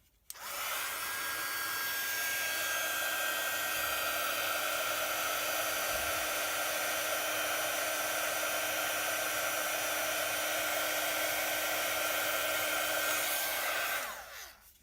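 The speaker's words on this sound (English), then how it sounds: "so I'm just going to use my heat gun" Heat gun blows steadily on stamped ink on a handmade baby card, a continuous even whirring hiss with a high whine, running close and alone for about thirteen seconds before switching off.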